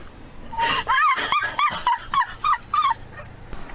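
Several small yips and whimpers from puppies, high and close, coming in a quick uneven series with short pauses between cries.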